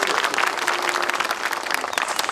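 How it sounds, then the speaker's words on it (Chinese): Dense, steady applause from a crowd of guests at a wedding banquet, with many hands clapping evenly for a couple of seconds and no talk on top. "掌声，好。"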